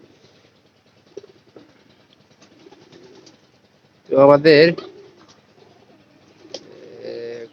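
Pigeons coo in a loft, with one loud, close burst of cooing and a softer call later. A voice speaks briefly, and faint shuffling and pecking sounds fill the background.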